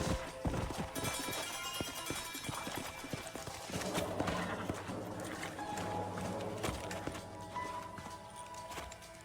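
Dense hoofbeats clatter as several horses move over hard ground in the video game Red Dead Redemption, with a whinny and busy game-style effects layered throughout.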